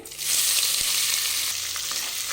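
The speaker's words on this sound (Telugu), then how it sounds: "వీటిని కూడా బాగా ఫ్రై చేసుకోవాలి ఆనియన్స్ కాస్త ఎర్రగా వేగాలన్నమాట" Thinly sliced onions and green chillies frying with spices for a wedding-style mutton curry, a loud, even sizzle that swells in after a brief quiet start and carries on steadily, near and alone.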